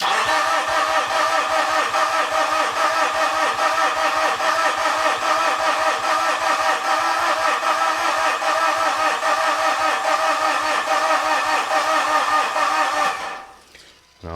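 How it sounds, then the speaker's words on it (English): Mitsubishi Fuso FG truck with a no-start fault being cranked: a loud, steady, rapid starter churn goes on without catching for about thirteen seconds, then cuts off abruptly. "We're going to try cranking it and see if we get any changes"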